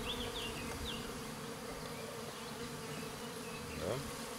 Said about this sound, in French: il y a un bon paquet d'abeilles